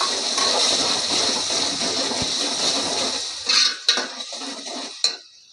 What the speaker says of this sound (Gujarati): એટલે ગ્રેવી બધી નાખી દઈએ આમાં.